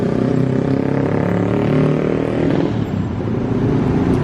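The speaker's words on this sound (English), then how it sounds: "let's say a deep-throated motorcycle" A deep-throated motorcycle rumbles along a downtown street in Kuala Lumpur, a low, steady engine drone that holds loud and close for the whole few seconds.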